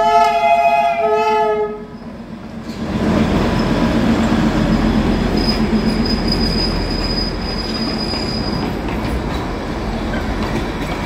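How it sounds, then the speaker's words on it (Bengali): Darjeeling toy train passing along a street, opening with a loud multi-tone horn blast, then a close rumbling roll with sustained wheel squeal and clatter of rail cars throughout. "এই যে রাস্তা যেতে যেতে আমরা তার দেখা পেয়ে গেলাম দার্জিলিংয়ের ঐতিহ্য।"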